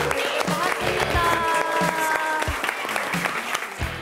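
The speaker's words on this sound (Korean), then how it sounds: "환영의 박수 부탁드립니다" Studio audience applause welcoming a guest on a Korean TV talk show, a burst of many hands clapping at moderate distance, with a low background hum beneath it throughout.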